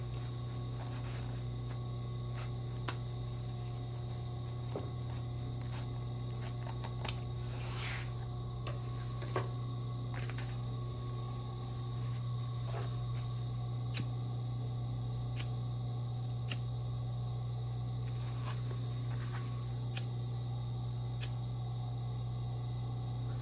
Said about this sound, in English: I'm trimming my corners, and I'm going to trim my zippers off the edge.